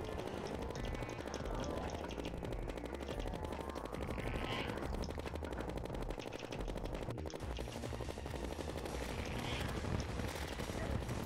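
Video game gunfire crackles in dense, rapid bursts of automatic shooting that run without a break for the whole stretch, loud and steady, with no clear speech over it.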